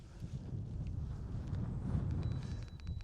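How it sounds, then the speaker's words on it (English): Wind at Strawberry Reservoir buffets the microphone in a steady, loud, low rumble for about three seconds, with no talking. "There's the wind."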